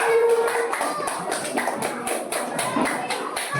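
Classmates applauding after a group presentation in a classroom, a steady patter of many hands clapping in rapid, fairly even rhythm, close and moderately loud, with light shuffling underneath.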